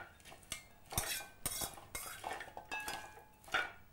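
A spoon scrapes and clinks against a pan while the Palakkad sweet snack manoharam is stirred into sugar syrup, with repeated sharp metallic knocks and soft scraping strokes at a steady, close, moderate level.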